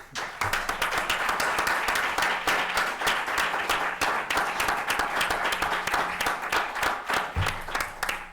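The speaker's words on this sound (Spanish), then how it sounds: "quien me gustaría que recibiéramos con un fuerte aplauso" An audience at a talk in Granada applauds to welcome the critic Ignacio Echevarría, with dense, energetic clapping from many hands held at a steady, loud level throughout.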